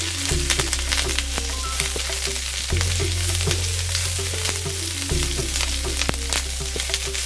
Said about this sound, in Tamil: இந்த கருவேப்பிலையை நல்லா ரோஸ்ட் ஆக்கிட்டேன்.